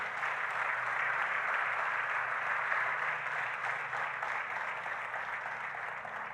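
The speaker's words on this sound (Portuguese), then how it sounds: "Você pode aplaudir a Deus pela palavra dele?" A church congregation applauds God during a Portuguese-language sermon, a steady, dense wash of many hands clapping that holds evenly for several seconds with no talking over it.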